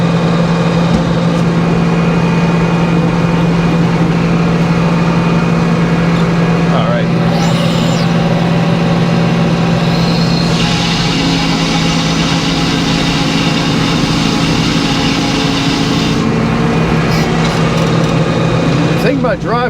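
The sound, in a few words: Eastonmade log splitter engine running, hydraulic pump coupling rattling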